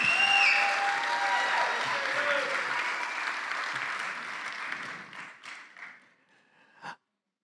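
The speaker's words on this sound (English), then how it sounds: "Can we get a round of applause to our students who are being recognized tonight?" A crowd applauds steadily at a school graduation ceremony, loud at first, then the clapping thins out and fades to a few scattered claps before stopping.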